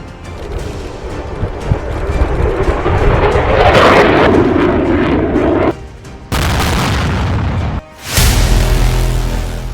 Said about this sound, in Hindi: जंगी जेट F-16 से भयानक हमला हो रहा है।